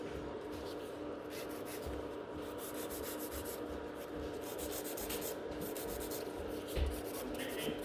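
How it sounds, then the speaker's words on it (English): A nail file rasps lightly across a gel nail extension to blend it into the natural nail, a soft continuous scratching with faint irregular strokes. "when I'm filing, I'm making sure this line is totally blended with the natural nail"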